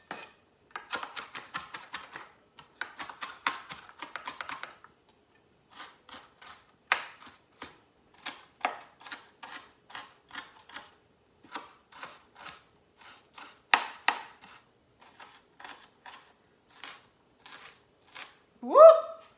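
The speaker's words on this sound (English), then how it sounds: "Why do you always cut the onion first, girl?" Onion chopped with a knife on a cutting board, a run of sharp, rapid taps in bursts, close and crisp against a quiet background.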